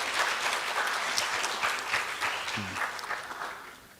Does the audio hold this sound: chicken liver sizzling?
no